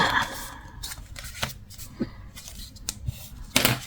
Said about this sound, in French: Hop, donc on plie dans un sens et dans l'autre. Et on vient tout simplement marquer nos plis.